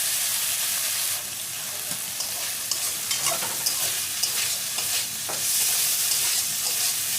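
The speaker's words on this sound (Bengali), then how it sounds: "তো আর একটু ভেজে আমি তুলে নেবো চিকেনটা" Chicken frying in a pan gives a steady, close hiss and crackle of oil, with occasional stirring scrapes and clicks throughout, no voices.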